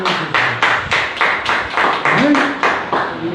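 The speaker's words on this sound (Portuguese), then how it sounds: "Dê uma salva de palmas bem forte" Church congregation clapping hard in unison, a steady rhythmic beat of loud claps about three per second, with a voice sounding briefly over the clapping.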